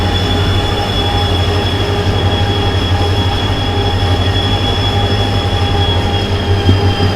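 A Vande Bharat Express on the Mangaluru Central–Madgaon run along the Konkan Railway rumbles past in a loud, steady roar, with faint wheel squeal riding over the heavy low drone.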